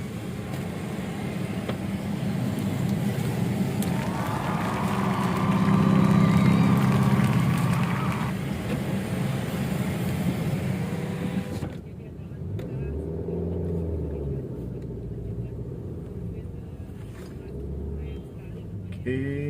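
Car engines rumble steadily in the parking lot of PTC Mall, with a louder swell of passing traffic early on, then a quieter idling hum; people talk faintly in the background.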